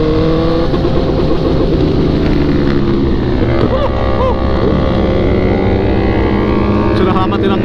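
Honda CBR1000 sport motorcycle held at high revs with launch control engaged at night in Cirebon, a loud, steady, raspy engine roar close by throughout, with voices faintly beneath it.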